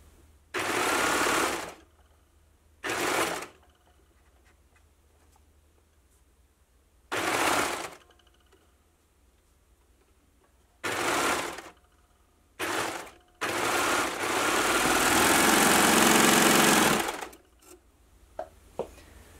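Overlocker stitching a jersey dress neckband in several short bursts followed by one longer steady run near the end, close and loud, with quiet gaps between.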